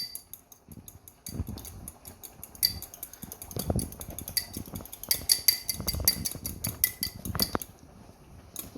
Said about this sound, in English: So I got one egg. We're just going to whisk that up with a fork.